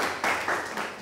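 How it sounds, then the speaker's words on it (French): A short burst of people clapping together, fairly loud and steady for about a second with slight swells in intensity. "J'ai envie de nous applaudir"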